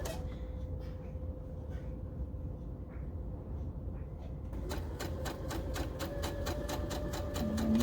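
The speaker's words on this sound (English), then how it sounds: "fold this back up, keep sewing" A sewing machine stitches a fabric scrunchie, starting after a quieter stretch of handling. It then runs as a steady, close, rapid mechanical chatter for the last few seconds.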